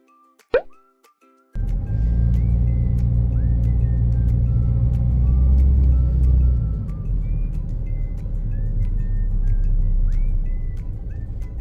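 A diesel mid-size sedan's engine runs with a steady, loud, close low rumble after a brief knock at the start, holding fairly even through the drive with faint rising whines over it.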